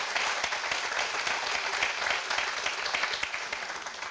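A crowd applauds at the dedication of the Kitsap Transit Kingston fast ferry, a steady wash of clapping held at an even level for several seconds and easing slightly at the end.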